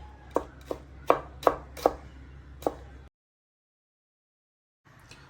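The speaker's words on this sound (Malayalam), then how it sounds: "ഇത് നന്നായിട്ട് ചോപ്പ് ചെയ്തെടുക്കാം, ഫുള്ള് നല്ല ചെറിയ രീതിയിൽ ചോപ്പ് ചെയ്തെടുക്കാം." Knife chopping a frozen ingredient finely on a board, six sharp distinct knocks at uneven intervals close by, then a silent gap and faint noise.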